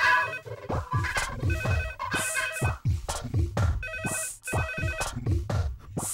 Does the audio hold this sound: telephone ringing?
yes